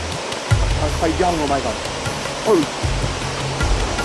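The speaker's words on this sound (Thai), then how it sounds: "มาถึงตอนนี้เราได้ยินเสียงน้ำตกแล้วครับ" Waterfall near the Phu Wiang dinosaur museum in Khon Kaen, Thailand, a sloping rock-slide cascade, gives a steady broadband rush of water throughout while someone talks over it.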